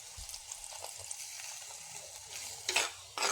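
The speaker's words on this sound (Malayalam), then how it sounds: "ഇനി നമുക്കിതിലേക്ക് വേവാൻ ആവശ്യത്തിന് കുറച്ച് വെള്ളം ഒഴിച്ചു കൊടുക്കാം" Water poured into a pan of sautéed vegetables cooked in oil, a quiet simmering sizzle that flares into two louder hissing bursts near the end as the liquid hits the hot pan.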